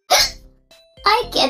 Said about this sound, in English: I get the hiccups.